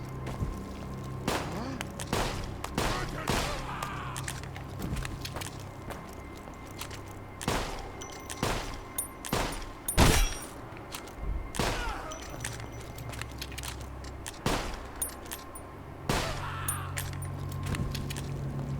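Pistol shots in the World War I video game Conscript, a series of sharp, loud single cracks at irregular intervals over steady background game ambience, each followed by brief rattling.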